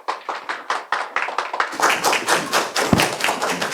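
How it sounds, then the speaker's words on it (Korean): An audience at a book talk greets the arriving speaker with applause, starting as a few separate claps, then swelling after about two seconds into fuller, continuous clapping with a sharp thump near the end. "뜨거운 박수로 맞이해 주십시오."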